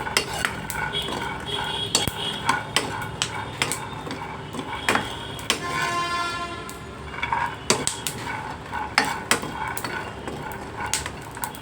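Flaxseeds are dry-roasted in a pan while a metal spatula scrapes and knocks against it, producing sharp irregular clinks and scraping over a steady background rustle, close and fairly loud.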